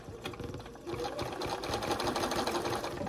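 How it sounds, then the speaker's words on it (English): A sewing machine stitches fabric binding in a steady close whirring run, starting softer and rising to a continuous, even buzz for about three seconds, with no voices. "I'm going to start stitching a couple inches above where that little tail is"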